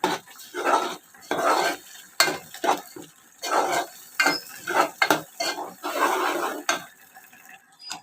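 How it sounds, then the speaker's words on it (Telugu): Mango pulp is stirred into a fish curry in a pot, with repeated close scraping and clanking strokes of a spoon against the metal in an uneven rhythm, alone without talk. "ఇప్పుడు మామిడికాయ గుజ్జు వేసేసుకుందాం ఒకసారి తిప్పుకుందాం"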